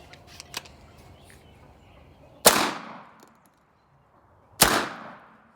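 An American Tactical .410 AR-15 style shotgun firing outdoors, two sharp, loud shots a couple of seconds apart, each with a decaying tail, preceded by faint metallic handling clicks.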